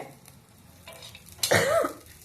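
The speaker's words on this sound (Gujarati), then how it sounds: "થોડી ઉધરસ આવે છે પણ થોડા મરચાં તીખા છે" A single sharp cough, set off by pungent chillies frying, bursts out near the end, following quiet kitchen sizzling and stirring sounds.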